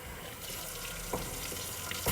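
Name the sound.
washing dishes with running tap water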